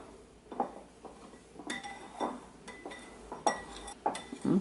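A utensil folds an aquafaba mixture for a plant-based omelette in a bowl, giving quiet, irregular clinks and soft scrapes against the bowl, close and faint, with no talking.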